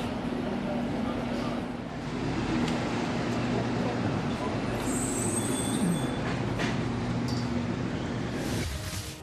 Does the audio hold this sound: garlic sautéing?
no